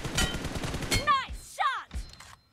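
M4 rifle fire in PUBG Mobile: a quick run of close gunshots, then ringing, whistling metallic game effects and a final thud, loud and layered in a busy game mix.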